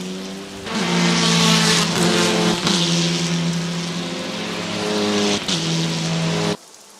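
Race cars in Assetto Corsa, Audi, Hyundai and Cupra touring cars at Zhuhai, roar past in a first-lap pack with layered droning engines, gear shifts and rising and falling pitch, loud and close.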